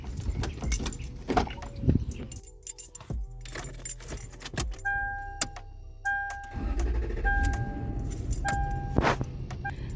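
A Toyota 4Runner is readied to hook up a 5x8 trailer: keys jangle up close, a door and engine start follow, then the vehicle idles and moves with steady rumbling and a few tonal chimes.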